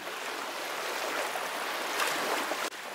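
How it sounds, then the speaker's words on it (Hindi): Cartoon sea water churning and rushing steadily as a creature rises from the ocean depths, a dense continuous surging wash with a brief swell near the end. "राका समुद्र की गहराई से ऊपरी सतह की ओर चल देता है।"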